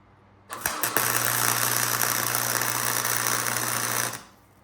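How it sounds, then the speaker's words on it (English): A flux core welder runs a bead along a steel clamp, a steady loud crackling buzz that starts abruptly, holds evenly for about three seconds alone, then cuts off. "Let's put another bead on this side of the clamp. I'm just using my flux core welder here."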